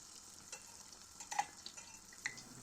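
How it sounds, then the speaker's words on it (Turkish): Pieces of dough fry in plenty of hot oil in a pan for pişi flatbread, with a soft steady sizzle and faint pops and clinks throughout, no voices. "Yağ ısındıktan sonra hamurları kızartmaya başlıyorum."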